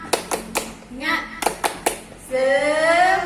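A group of children claps a rhythmic spirit clap during a school orientation, sharp close claps in a quick pattern, with a voice and an adult voice chanting between and after the claps.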